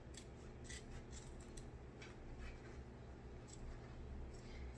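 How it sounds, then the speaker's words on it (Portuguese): Scissors cut through fabric for a half-moon zippered pouch, giving soft, quiet, repeated snipping and rasping strokes up close, with no talking. "Vou cortar. Ó, vamos cortar."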